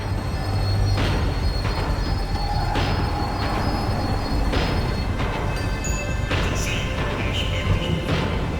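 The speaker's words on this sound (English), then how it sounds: "The tram was slowing down, and I'd only just gotten on board." A tram slows in Max Payne 3, a steady loud rumble of wheels on rails with repeated metallic squeals and clanks rising over the dense roar, close and continuous throughout.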